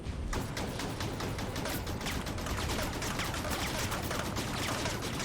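Dense, continuous gunfire from Mantis mechs in a Halo 5 Warzone match, a steady rattling barrage of rapid shots filling the whole stretch at moderate loudness.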